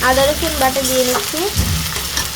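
Ginger-garlic paste hits fried prawns in hot oil, giving a loud, steady sizzle and crackle, with a voice talking over it early on and the frying continuing alone afterwards.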